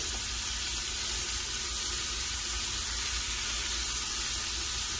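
Mushrooms cooking in a single layer in a pan for an Irish stew give a constant dense sizzle, close and even in loudness from start to end, with no talk.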